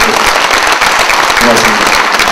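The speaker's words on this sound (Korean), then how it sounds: "우리 가장 큰 박수로 한번 감사 인사드리겠습니다" Audience applause at a Korean science and technology policy seminar, a dense steady wash of clapping from a large seated crowd, with faint voices mixed in underneath.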